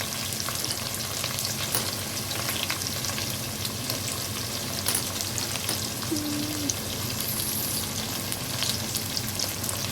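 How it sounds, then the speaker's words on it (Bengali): Onions frying in oil for a chicken dish give a steady, close hiss of sizzling that runs unbroken for the whole stretch, with faint scattered crackles and no voices. "প্রথমে পেঁয়াজগুলো আগে ভেজে নেবো"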